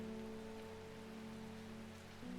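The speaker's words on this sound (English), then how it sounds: "Oh, it's so rainy today in the game." Rain in the video game Strange Horticulture, a continuous even patter of falling drops over a steady low musical drone, with no talking.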